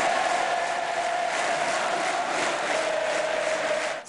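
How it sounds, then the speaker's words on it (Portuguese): A stadium crowd applauds during a minute-long tribute, a dense, steady wash of clapping and crowd noise that stays loud throughout. "Depois de homenageados, assistiram a 1 minuto de aplausos."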